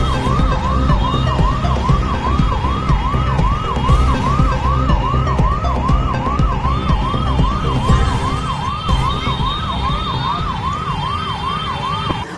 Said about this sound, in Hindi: भोपाल शहर के व्यस्त चौराहे का रोड पर ट्रैफिक जाम के चलते फंसी एम्बुलेंस, मरीज की जान को खतरा।